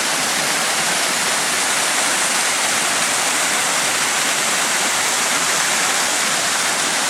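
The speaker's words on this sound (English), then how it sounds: "Beautiful pool at the foot of the waterfall here." A waterfall pours into a pool at its foot in a gorge on a high plateau near Kalumburu, a loud, unbroken roar of falling water that holds constant throughout, close by and with nothing else heard.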